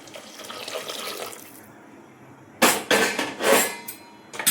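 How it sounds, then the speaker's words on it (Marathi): Hot water pours into a pot of dal khichdi, a soft running flow at first, then a louder burst of splashing and gushing with a few metallic clinks toward the end. "गरम पाणी टाकून घेत आहे।"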